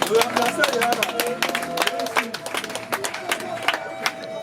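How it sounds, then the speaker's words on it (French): Guests clap at a customary wedding in Brazzaville, scattered irregular claps over music and crowd chatter, with voices talking throughout. "Sous vos applaudissements s'il vous plaît."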